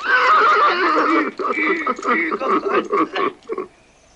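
A horse whinnies loudly and shakily up close, followed by several shorter snorting, neighing bursts that trail off.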